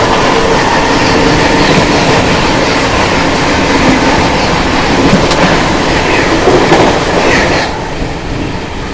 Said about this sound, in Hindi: सामने से आ रही है नॉर्थ ईस्ट एक्सप्रेस